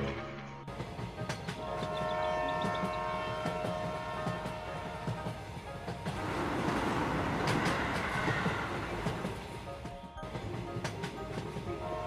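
A train runs steadily, a continuous loud rumble of rail cars with clattering wheels and a faint horn-like tone over it, swelling in the middle and holding alone without talk.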